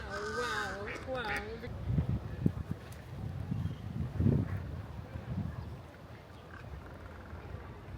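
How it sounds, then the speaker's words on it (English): A crow perched on a torii gate at a Japanese shrine gives a short run of harsh, rhythmic caws near the start, followed by wind and outdoor rustling, with people talking nearby. "Do you think the crow is saying wow, wow, wow?"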